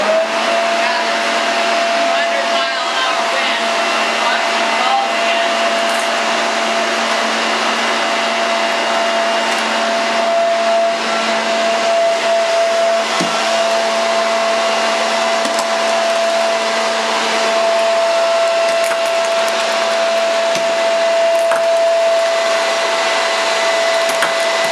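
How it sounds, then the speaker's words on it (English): A vacuum pushes air through a high-speed air tunnel track system, giving a loud, steady, unbroken whine and rushing roar up close that holds level throughout. "I'm gonna turn on the vacuum again and then hook it up"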